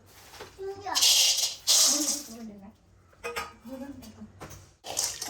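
Roasted peanuts rattle and clatter in a hot pan being reheated until crisp for homemade peanut candy, bursts of scraping and tossing between stretches of someone talking nearby.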